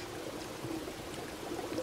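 Spring water wells up and flows from the ground on the Granadas volcano, a soft, continuous trickling and gurgling, faint and alone.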